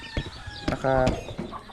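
Backyard chickens give a few short clucks and one drawn-out, rising call near the middle, fairly close, with scattered small noises and gaps of quiet between.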